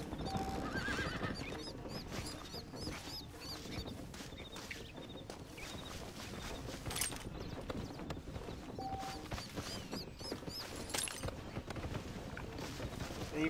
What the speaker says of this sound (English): They even shot the horses.